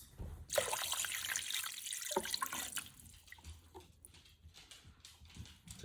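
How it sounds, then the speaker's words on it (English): Tap water pours into a cooking pot holding chicken for pozole verde, a steady rushing stream that thins to trickles and drips toward the end. "And then we're gonna fill the pot with water."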